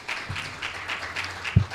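An audience at a state Senate lobby day gathering gives soft, scattered clapping with uneven bursts and a couple of low thumps, heard at some distance.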